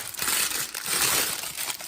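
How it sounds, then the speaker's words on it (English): A sheet of parchment paper is balled up by hand before lining a Dutch oven for sourdough bread, a loud, close, continuous crinkling and crushing that lasts about two seconds. "The thing with parchment paper, if you crumple it up first and then put it in your pan,"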